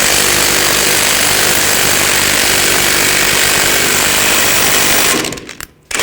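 A loud, continuous rattling impact wrench drives a ball joint press tight on the front suspension of a 2014–2018 GMC Sierra 1500. It hammers steadily for about five seconds, then stops abruptly, with no talking.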